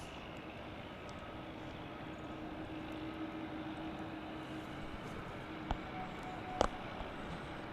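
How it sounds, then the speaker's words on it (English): A United Airlines plane, flight 2371 to San Francisco, runs at DFW International Airport, heard as a steady, distant jet engine rumble with a couple of brief sharp clicks near the end. "It should be United Flight 2371 off to San Francisco."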